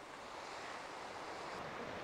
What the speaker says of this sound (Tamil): இந்த அலைகள் நிறைந்த இந்த கடலில் வந்து ஜாலியாக அப்படியே ஒரு ரைடு மாதிரி போயிட்டுருக்கு